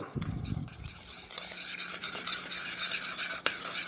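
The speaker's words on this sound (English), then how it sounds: "Now all you do is just mix it all up." Seasoning for maple garlic grilled salmon mixed by hand in a bowl, producing soft, close rubbing and scraping sounds with a muffled bump at the start and a sharp tap near the end.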